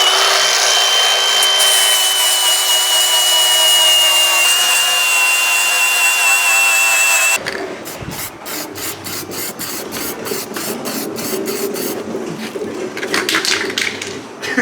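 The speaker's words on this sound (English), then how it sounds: "So let's grab a grinder, flatten that out, and toss some paint on it real quick." An angle grinder flattens a spot on a fourth-generation Toyota Tacoma frame during a rock slider install. After a long steady whine, it breaks into loud rapid bursts of rough grinding and scraping with short gaps.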